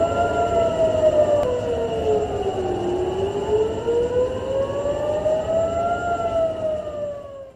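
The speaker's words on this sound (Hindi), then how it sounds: "बहरीन में हमले के सायरन बजने लगे हैं" Air raid sirens wail across Bahrain, a loud sustained tone sliding slowly down and back up with a fainter second siren layered beneath, carrying steadily through the whole stretch with no voices.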